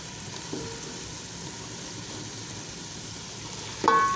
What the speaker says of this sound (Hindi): अब इसके अंदर हम आलू डाल देंगे।